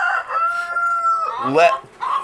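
A rooster crows close by with a long, drawn-out call, followed by more crowing and clucking from other birds nearby.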